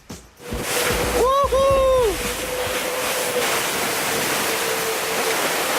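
Rushing roar of water and wind as a racing sailboat surfs down a wave at sea during the Transat Jacques Vabre, with a brief whooping voice near the start over the continuous spray.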